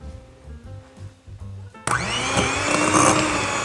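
Electric mixer starts abruptly partway through, whirring loud and steady as it beats pumpkin gooey butter cake batter of canned pumpkin, after a stretch of background music.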